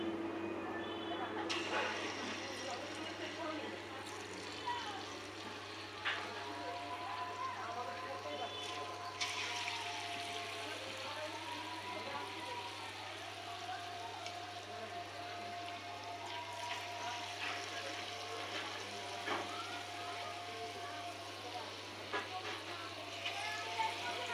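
Palm fruit fritters (taler bora) frying in hot oil make a continuous soft sizzling hiss, with a person talking over it throughout.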